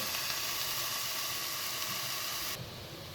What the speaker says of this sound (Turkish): Domateslerimizi de bir süre kavuralım, kız kızartalım, kızartalım.